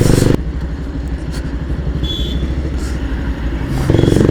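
Bajaj Pulsar 220F motorcycle engine pulling hard in fifth gear, a loud steady throbbing drone with wind rush, close and continuous, building slightly toward the end.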